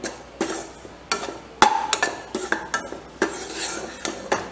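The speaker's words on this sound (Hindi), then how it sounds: "लगातार हिलाते रहेंगे।" A utensil stirs coriander powder as it roasts in a dry pan, producing irregular close scraping clicks and taps against the metal with no talking.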